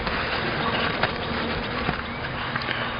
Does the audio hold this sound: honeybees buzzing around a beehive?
yes